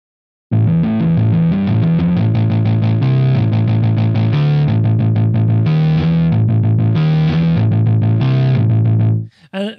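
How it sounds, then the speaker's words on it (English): A synth sound run through a crunchy guitar-amp distortion preset plays a loud, gritty, saturated riff of rapid repeated notes alongside sustained tones, alone, then cuts off abruptly near the end. "we want to add that grit, that saturation, distortion"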